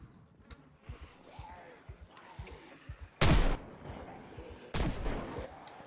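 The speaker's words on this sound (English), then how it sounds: "I love how I hear gunfire throughout the city." Distant gunfire echoing through a city in the zombie survival game Project Zomboid, two loud sharp reports a second or so apart over softer thuds and quiet background noise.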